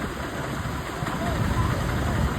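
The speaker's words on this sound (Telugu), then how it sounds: "ఓన్లీ పెద్ద వెహికల్స్ మాత్రం వెళ్తున్నాయి" Large vehicles drive along a flooded highway at Pithapuram. A steady low engine rumble mixes with rushing water noise, close and continuous, with indistinct voices in the background.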